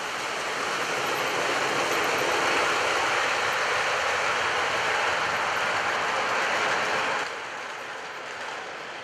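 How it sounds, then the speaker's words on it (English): A long, steady rumble of an eastbound freight train crossing the 1901 Delaware River Bridge, dense and continuous with a faint rhythmic clatter, easing slightly toward the end. "freight train that is, eastbound crossing the 1901 Delaware River Bridge"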